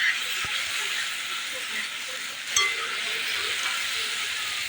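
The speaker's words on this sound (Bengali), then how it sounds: "পরিমাণ মতো জল দিয়ে দেবো।" Hiss and sizzle of fish curry with taro stolons and hilsa in a pan as water goes in, a steady frying crackle with a brief splash partway through and no voices.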